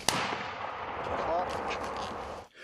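A single sharp gunshot cracks at the start in a forest, followed by a long rumbling echo that fades across the open air.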